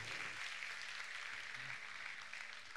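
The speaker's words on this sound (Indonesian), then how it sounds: "Beri tepuk tangan buat Tuhan yang luar biasa." Faint, steady applause from a church congregation during a sermon: a soft, even wash of clapping heard from a distance, with no distinct individual claps.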